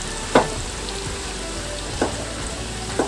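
Tempeh frying in oil in a home kitchen, a steady broadband sizzle running throughout with a few sharp pops or stirring clatters at intervals.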